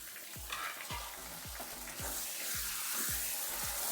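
Tomatoes sizzle and fry in a pan for lotus stem sabzi, a steady loud crackling hiss with a spoon scraping and stirring in regular strokes about twice a second.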